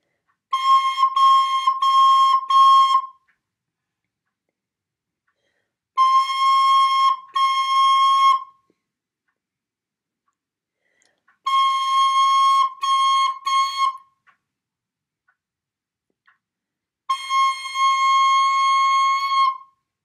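A recorder plays a clear, steady high C, sounded in four separate bursts of a few seconds each with pauses between, some bursts broken into short repeated tones, close and bright.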